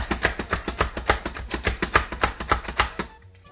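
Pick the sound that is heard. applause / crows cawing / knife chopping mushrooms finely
knife chopping mushrooms finely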